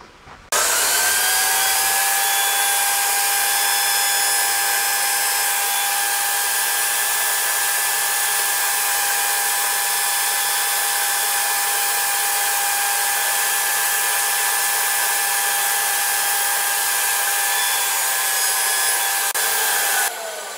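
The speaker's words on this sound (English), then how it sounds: "I've allowed for my saw kerf, and we'll cut those on my segmenting sled." A saw cuts maple segments on a segmenting sled, a loud sustained high whine that spins up quickly and holds steady for about eighteen seconds, close and with no talking.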